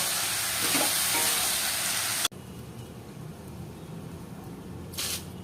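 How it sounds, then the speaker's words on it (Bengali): Vegetables, rice and lentils for khichuri sizzle and scrape while being stir-fried in a pan, a steady dense crackle that drops to a softer hiss partway through, with a brief stirring burst near the end. "এই দেখো সবজি চাল ডাল কষানো হয়ে গেছে।"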